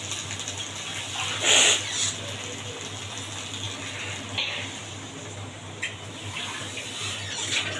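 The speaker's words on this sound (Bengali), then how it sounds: "ঘন্টটা সিদ্ধ হওয়ার জন্য আমি পরিমাণ মতো পানি দিয়ে দেব।" Water is poured into a pot of pumpkin and potato curry, a brief splashy pour near the start and then low, faint trickling and kitchen rustle with no voices.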